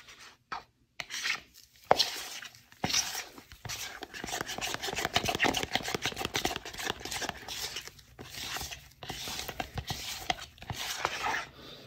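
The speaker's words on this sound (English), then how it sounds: "let me do a quick scrape here" Tool scraping across a mold surface while making armorer's tongs, a close, steady raspy rubbing in quick repeated strokes with brief pauses, no voices over it.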